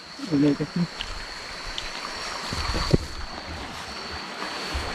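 Noisy flowing water rushes in a steady broadband wash close by, with a brief voice near the start and a sharp knock near the three-second mark.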